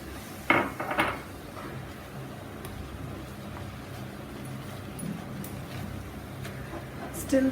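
Rice powder being stirred into boiling water in a pot for salted modak dough, soft scraping and a few clinks of a utensil against the pot over a low steady background hiss.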